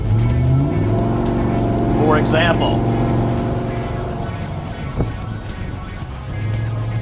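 A restored car with an LS3 engine runs with a low, steady rumble, with a brief rising tone midway, while someone talks over it.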